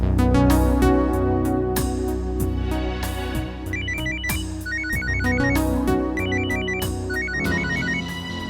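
A melodic phone ringtone plays loud and near, with rhythmic chiming note patterns repeating over a steady musical backing, no voices.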